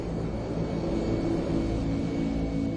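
Jet airliner engines at takeoff thrust during the US Airways 1549 climb give a steady, loud broadband roar with a low rumble, unbroken and alone throughout.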